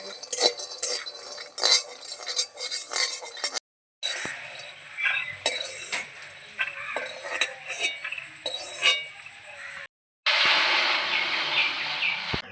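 Metal utensil scraping and clinking against a pan as peanuts are stirred and fried, with a steady crackle underneath and two brief silent gaps.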